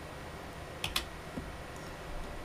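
A computer keyboard key pressed to run a command, two quick close clicks in succession followed by a fainter tap, over a quiet room hum.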